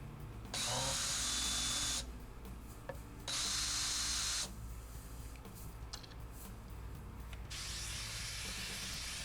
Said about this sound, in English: this is the chamfering tool. Chamfer the tops of these holes